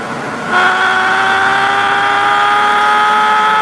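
The engine of a 1998 Mark 4 Supra in a car parking video game, holding a steady, loud, droning high-rev tone at top speed after a brief rise, with no talking.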